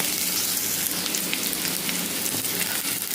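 Okra sautés in oil in a pan for a Manavai-style vendakkai pachadi. It gives a steady, dense sizzle and crackle that runs unbroken throughout, close and fairly loud, with no talking.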